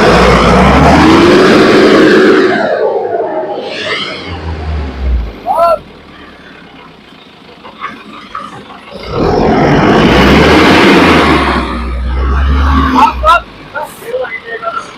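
A truck stuck on a rain-soaked farm track revs its engine in two loud, sustained bursts with a quieter stretch between, while people shout directions nearby.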